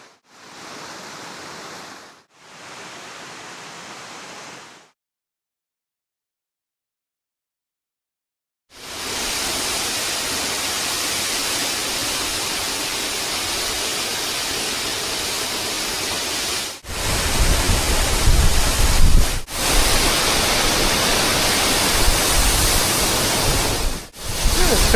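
Proxy Falls waterfall roars as a loud, steady wash of white water, starting after a stretch of silence and briefly cut by edits, growing heavier and closer in the final seconds.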